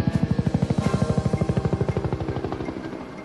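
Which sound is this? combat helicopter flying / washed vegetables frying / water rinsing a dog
combat helicopter flying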